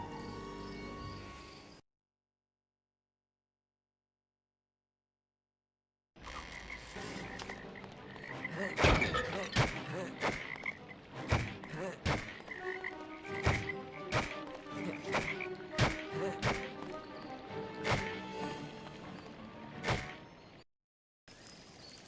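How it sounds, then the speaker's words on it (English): Toads croak in a swampy scene from the PS2 game A Series of Unfortunate Events, with a chorus of loud croaks and sharp clicks overlapping at an uneven rhythm. They come after a short gap of silence. "Look at all those toads."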